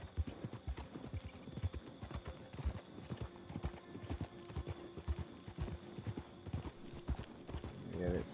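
Horse hooves clip-clop steadily as a rider travels in the video game Red Dead Redemption 2, a quick, even rhythm of close hoofbeats that runs throughout.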